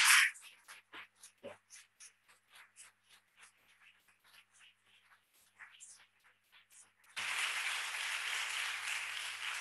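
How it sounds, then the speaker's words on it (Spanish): Audience applause in a lecture hall at a talk, breaking out suddenly two-thirds of the way through after a stretch of quiet, scattered small sounds, then holding steady and fairly loud. "Tenéis que empezar con un fuerte aplauso para que yo me anime"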